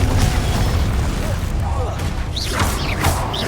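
A Confringo spell blast in Hogwarts Legacy, loud booming impacts and crackling bursts in a busy combat mix, with voices calling out over the noise.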